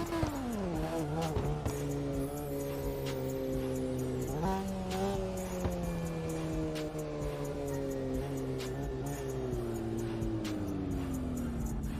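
A Mazda RX-7 drift car's rotary engine screams at high revs during a drift competition run, pitch dipping and climbing as the throttle is worked, with crackling pops and tire noise throughout.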